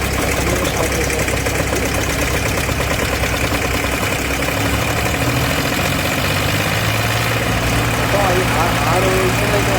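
Two engines driving water pumps at a water storage site idle steadily together, a loud continuous low rumble with knocking vibration that never lets up, with voices talking over it.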